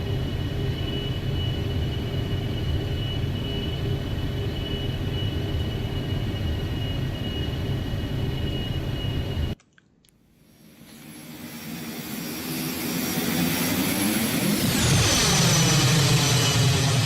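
Gulfstream 550 jet engines spooling up in the X-Plane flight simulator, a constant whine and rumble that cuts out abruptly, then swells again into a rising, sweeping turbine roar that grows steadily louder.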